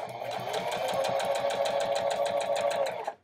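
A sewing machine runs continuously, stitching a zipper into a pillow at a medium stitch length, its rapid mechanical needle rhythm close and steady before stopping abruptly.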